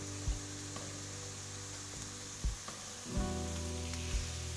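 Fried rice ingredients stir-fried with a few drops of sesame oil in a pan over low to medium heat, giving a steady soft sizzle with occasional scraping stirs and utensil knocks.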